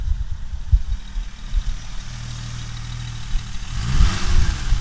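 A warmed-up 1970 Mercedes-Benz 280SL engine idles with a low steady rumble, then is revved near the end, the pitch climbing in a quick burst, heard close and fairly loud.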